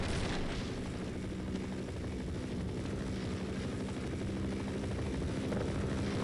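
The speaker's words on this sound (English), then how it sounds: "Perhaps to take down that helicopter." Helicopter in the video game Half-Life, a continuous loud rotor drone with heavy low rumble that holds steady and close throughout, no speech.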